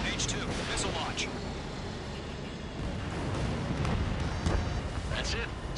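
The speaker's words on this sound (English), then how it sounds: "H2, missile launch." A missile launches and explodes in a PS4 combat flight game: a sustained roaring rush with dull booming bursts, loud and continuous, with faint radio-style voices underneath.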